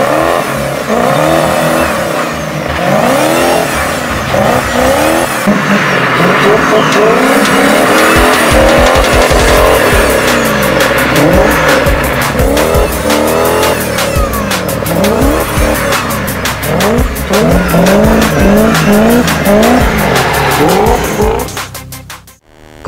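A Toyota Altezza fitted with a V8 UZ engine roars loud and close, revving hard with squealing tires and skidding throughout before cutting off at the end.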